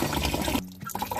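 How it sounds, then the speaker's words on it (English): Water running into a mini washer used for washing merino fleece flows steadily and close, then cuts off abruptly partway through, leaving a short quiet gap before faint residual sounds return. "So we'll go ahead and shut this water off."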